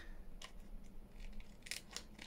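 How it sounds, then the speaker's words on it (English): Scissors snip at a sheet of acetate, giving a few quiet, crisp cuts and clicks, faint and close, with no talk. "I just can't get my scissors on it"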